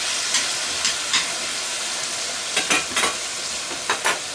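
Brussels sprouts and garlic sizzling in a hot pan under a steady frying hiss, with a spoon scraping and stirring in several short bursts, close and fairly loud.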